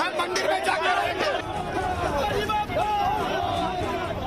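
A jostling crowd of people outside a temple, loud overlapping chatter and shouting filling the whole stretch with constant dense babble.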